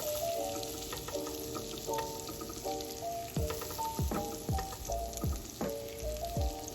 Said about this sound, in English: So just keep stirring this around till the butter melts completely.